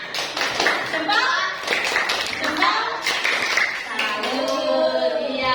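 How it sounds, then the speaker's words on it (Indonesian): A group gives a rhythmic 'tepuk salut' salute clap together. Several hands strike in quick patterned bursts while voices chant and talk over it the whole time. "Kita beri tepuk salut buat kita semua. Tepuk salut paling semangat."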